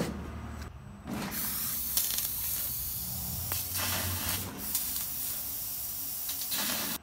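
A laser cutter slices 1095 steel knife blanks with a loud, steady spraying hiss, broken by a brief dip near the start and small shifts in intensity, with no talk.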